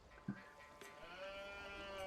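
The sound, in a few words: sheep bleating in a video game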